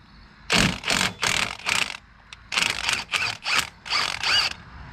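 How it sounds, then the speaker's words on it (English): A ratchet wrench loosening the ball joint bolt on a Dodge Neon suspension, in two bursts of quick rapid clicking strokes, close and clear. "Alright, I'm removing the ball joint bolt."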